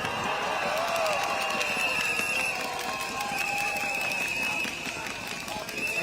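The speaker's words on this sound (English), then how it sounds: "let's give a round of applause to our Minister Ong Ika." Crowd at an outdoor election rally in Sembawang cheering and applauding steadily throughout, a dense continuous wash of claps and voices with no breaks.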